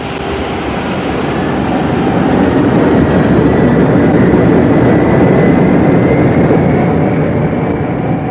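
A radio-drama sound effect of airliner jet engines during the takeoff roll: a loud, continuous broadband roar that builds slightly and holds steady, close and unbroken, with no voices over it.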